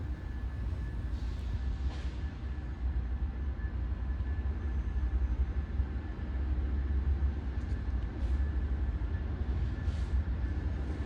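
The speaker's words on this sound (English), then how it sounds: "I heard a train leaving and see the lights on the Southwest Chief activate" Amtrak Southwest Chief passenger train pulling out of LA Union Station, a steady low rumble of rolling railcars filling the whole stretch at moderate distance, with faint higher squeals and clanks surfacing now and then.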